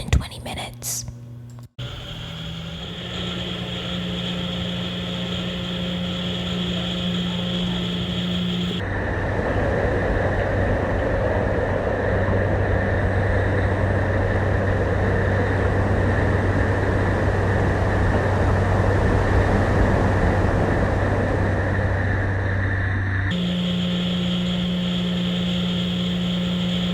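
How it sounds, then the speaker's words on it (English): A curing machine in a plastic injection manufacturing plant, set to 80 °C, runs with a steady mechanical hum and airy broadband whir. Whispered talk sits over the drone, which shifts in level partway through. "This is the curing machine. We set the temperature to 80 degrees Celsius for 120 minutes."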